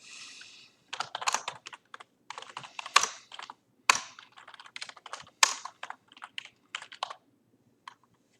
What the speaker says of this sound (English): So let's go ahead and look for Ken Griffey Jr. 1989 Bowman cards.